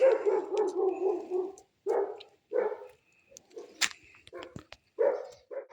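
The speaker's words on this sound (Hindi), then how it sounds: "ये सुमित भाई का कुत्ता है जो भौंक रहा है" A village dog in Uttarakhand barks in repeated bursts at fairly close range, with gaps between volleys and a few short yips near the end.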